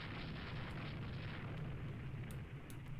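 Naval gunfire from the Rule the Waves II game, heard as a steady, low rumbling roar of distant cannon blasts that continues for the whole clip, with a few faint sharp cracks near the end and no talking.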